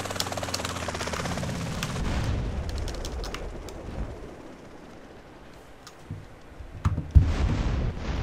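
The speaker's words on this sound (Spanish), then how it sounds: "¡Helicóptero!" A helicopter in the game Grand Theft Auto San Andreas, rhythmic rotor thumping and engine whine, loud at first then fading, with a few sharp bangs and scattered chirps near the end.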